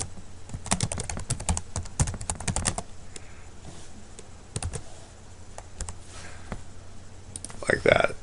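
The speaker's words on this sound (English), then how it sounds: "Then here I'm just going to have to type in my home address again." Typing a home address on a computer keyboard for map directions, heard as bursts of close, rapid key clicks with pauses between them and a few louder sounds near the end.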